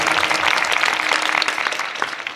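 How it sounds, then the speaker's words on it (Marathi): An audience at a devotional kirtan gives the guruji a loud, dense round of applause, many hands clapping steadily and close for the whole stretch with no voices over it. "एक दात करे गुरुजीसाठी जोरदार टाळी होऊन जाऊ."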